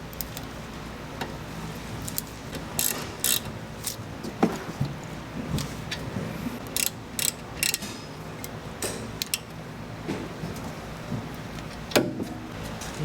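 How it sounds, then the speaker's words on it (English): Small ratchet with an M7 hex bit refitting the caliper bracket guides during a Volvo XC70 wheel hub replacement, giving scattered quick ticking clicks in short bursts over a quiet workshop background. "I'm going to put the guides back into the caliper bracket using that M7"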